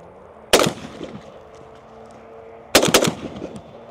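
Two loud, sharp rifle reports from a PSA Krink, the second followed by a quick cluster of shots, each cracking out close by and ringing over low outdoor background noise at a shooting range.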